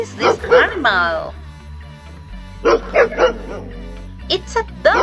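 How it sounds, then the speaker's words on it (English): A dog barking and yipping, several sharp barks in short bursts with a whimpering tone, loud and near, over a background music bed. "It's a dog."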